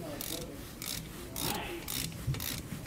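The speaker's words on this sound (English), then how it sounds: "And then we'll tighten this down with a half inch socket or wrench." Ratchet wrench tightening the bolts of a Kodiak disc brake kit on a 2018 Shasta Phoenix trailer, giving a series of rhythmic rasping ratchet bursts at moderate volume with no talking.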